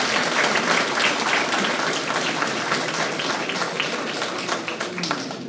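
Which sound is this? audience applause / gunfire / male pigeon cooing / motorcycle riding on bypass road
audience applause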